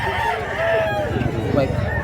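Rooster crowing at a poultry market in Mantalungon, Cebu, a drawn-out call over a busy backdrop of other fowl, clucking and crowd babble, with voices talking nearby.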